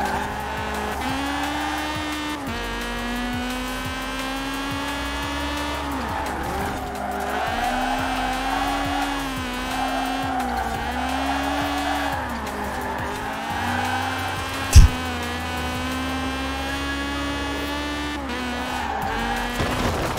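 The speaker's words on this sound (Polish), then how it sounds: "Kurde, niezłe przyspieszenie mam w tym miniaczu." A Mini car in the video game Forza Horizon 4 accelerates with a steady, droning engine note that rises and falls in pitch as it shifts, tires squeal, and one sharp knock sounds midway.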